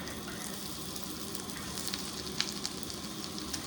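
Onions sauté in melted butter in a pan for paneer butter masala, giving a steady close sizzle with small crackles and pops, alone without talk.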